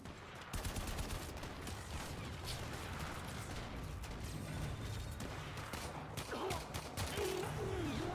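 Enemy gunfire in the sci-fi shooter Warframe: a continuous, fairly quiet clatter of rapid shots, with a few sharper reports near the end. A voice briefly speaks over it.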